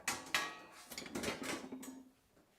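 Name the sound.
whisk being grabbed among kitchen utensils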